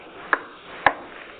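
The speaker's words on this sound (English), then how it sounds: "So if I knock on my desk here" Two sharp knocks on a desk, about half a second apart, close and crisp against quiet room tone.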